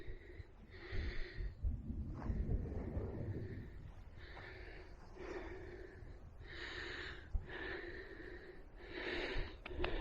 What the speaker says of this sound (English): Oh, a bit out of breath.